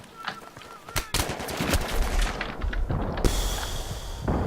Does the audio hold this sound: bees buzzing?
no